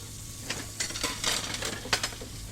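Dishes are washed in a video game, with soft clinks of plates and cutlery and brief water splashes, quiet and intermittent over a low background hum.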